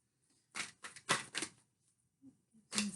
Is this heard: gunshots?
no